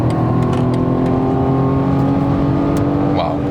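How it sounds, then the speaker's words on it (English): BMW M135i F40 pulling hard at high speed on an unlimited-speed road in sport mode, a loud sustained engine drone with rising tone, wind and tyre noise beneath. "Wow, even at higher speeds you have an acceleration like you would have from a 6-cylinder"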